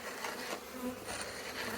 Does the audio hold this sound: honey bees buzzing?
yes